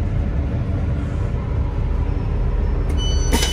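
A passenger train pulls away from Oldfield Park station on an outdoor platform, a steady low rumble throughout with a brief higher squeal or hiss near the end.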